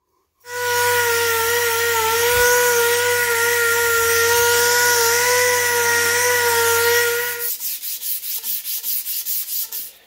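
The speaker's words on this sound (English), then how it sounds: "Now all I got left to do is I got to sand that." A notched steel pipe for a roll cage being sanded: a loud, steady, close grinding whir with a constant motor hum, then a few seconds of rhythmic pulsing strokes as it winds down.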